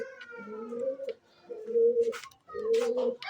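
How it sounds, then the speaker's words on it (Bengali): Pigeons coo at home in soft, repeated rolling phrases. Three distinct bursts come close together with brief pauses between them, heard clearly and near. "এই যে আমাদের কবুতর"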